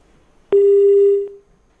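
A single steady telephone tone marks a disconnected phone call, starting sharply, holding for about a second and then cutting off with a brief click, clear and isolated against near silence.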